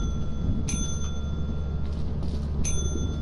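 A bell in the game Lethal Company gives two bright, ringing chimes about two seconds apart, each with a short decay, over a steady low hum and faint background noise.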